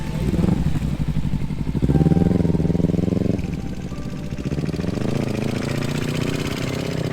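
A motorcycle engine runs steadily close by during a slow-speed turn in a parking lot, its low rumble swelling briefly as the throttle opens mid-lean, then settling back to an even drone.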